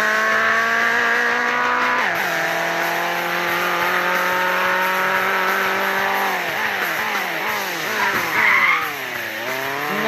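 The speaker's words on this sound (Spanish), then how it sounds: "Ahora vamos con los frenos de competición." A car that handles poorly brakes hard on competition brakes, and its tires squeal loudly for the whole stretch. The shrieking pitch bends and wavers as the car slows, with engine noise underneath and no one talking.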